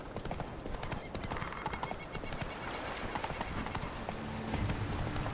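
Horse in The Witcher 3 galloping, rapid rhythmic clip-clop hoofbeats running steadily throughout, fairly close, with a brief low tone near the end.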